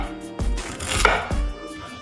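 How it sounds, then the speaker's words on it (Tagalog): An onion being sliced with a knife on a cutting board, three firm chopping thuds close by with a soft crunch between them, no talking. "Ito na yung mahiwa ko na sibuyas."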